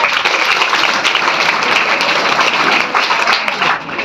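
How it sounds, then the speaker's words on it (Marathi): A room full of people at a Savitribai Phule birth anniversary event bursts into loud, dense applause that continues steadily, then fades slightly at the end. "त्या दिदीसाठी एकदा जोरदार टाळ्या झाल्यात"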